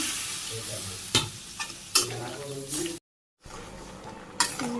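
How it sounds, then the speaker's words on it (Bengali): Pumpkin curry frying and being stirred in a pan in a Bangladeshi village kitchen: a continuous sizzle with sharp spoon scrapes and clinks, and one brief silent gap. "তরকারি জাল হইতেছে"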